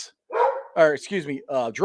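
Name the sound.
dog outside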